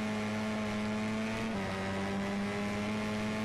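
A KTM Moto3 motorcycle engine in MotoGP 13 holds a steady, buzzing drone at near-constant pitch, dipping once slightly as if shifting gear, heard alone and fairly close.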